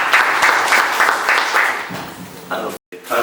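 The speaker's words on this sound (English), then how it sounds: "Please, a round of applause." Audience applause at a dean induction ceremony in Kaduna, a steady wash of clapping filling the room for about three seconds, broken by a brief silent gap near the end before resuming.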